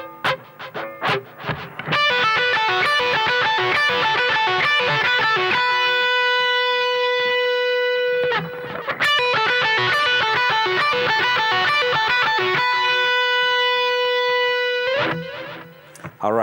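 Overdriven electric guitar plays a minor pentatonic lick on the top two strings: quick picked notes, then long sustained ringing tones, with the phrase repeated twice, loud and without talking.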